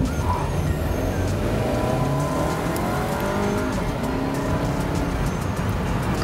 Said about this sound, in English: Let's see how the turbo reacts when we start from a standstill.